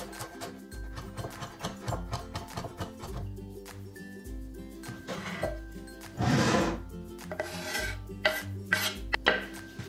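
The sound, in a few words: mixing minced meat, onion and parsley by hand in a bowl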